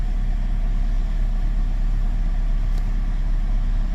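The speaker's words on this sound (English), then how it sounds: "Let's go and start the car and see what it sounds like." The engine of a 2009 Chevy Cobalt LT with about 58,000 miles runs at a steady idle, a constant close low drone with nothing else heard.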